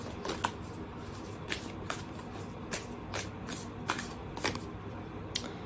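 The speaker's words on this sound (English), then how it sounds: "Let's do the Wild Soul Oracle cards." Wild Soul Oracle cards being shuffled, soft repeated riffles and taps at irregular intervals over a low steady background hum, close and quiet, with no voices.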